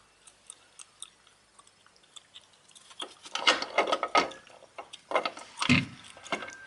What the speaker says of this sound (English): Now out comes the bolt.